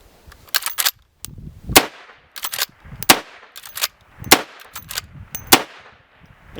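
A Smith & Wesson Model 1854 Stealth Hunter lever-action rifle is fired outdoors in a fast string, about seven sharp, loud shots spaced roughly a second apart, with the metallic clack of the lever cycling between them.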